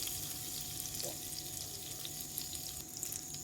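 Butter melting and gently sizzling in a pot before goat meat goes in, a soft steady frying hiss with faint crackles throughout, fairly quiet and alone.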